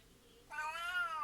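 A cat gives a single drawn-out meow, close and clear, rising then falling, with no one talking over it.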